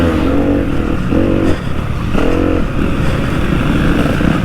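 A dirt bike engine revs hard in bursts on a slippery motocross track at an SMX race, loud and close with rising and falling throttle blips and clattering.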